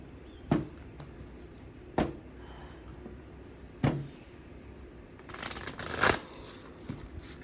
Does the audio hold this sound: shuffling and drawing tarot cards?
yes